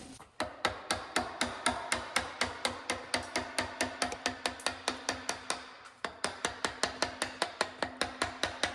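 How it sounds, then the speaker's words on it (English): Steady hammer blows on a chair under repair, dozens of sharp, evenly spaced strikes in a brisk rhythm with a short pause midway, close and loud with no talk. "Grab one of my gorgeous hammers."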